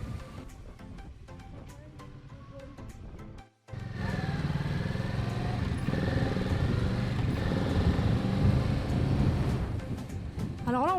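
A motorcycle ridden during an early A2 licence training session, its engine droning steadily with rising and falling revs as gears are shifted, after a brief drop near the start.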